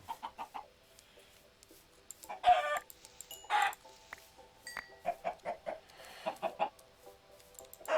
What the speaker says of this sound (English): There's some good old-fashioned chicken.